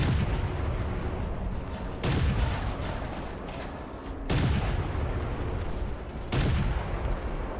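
Gunfire and artillery in the WWII Pacific beach defence game Beach Invasion 1945, a steady dense roar of firing broken by several heavy booming blasts at intervals.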